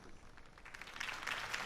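Crowd applause after a campaign speech by Harvey Dent in a Batman video game, a broad wash of clapping that starts moderate and swells louder over a second and a half, with no voices on top.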